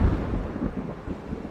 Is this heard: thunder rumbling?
yes